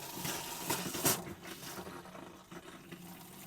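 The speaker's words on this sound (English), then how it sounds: "And your hot water's coming through there nicely now." Hot water running from a tap in a Swift Voyager 540 caravan, a soft splashing flow with a couple of brief surges early on, fairly quiet and steady.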